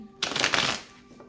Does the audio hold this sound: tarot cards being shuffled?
yes